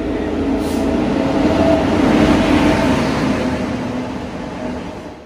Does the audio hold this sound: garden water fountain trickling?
no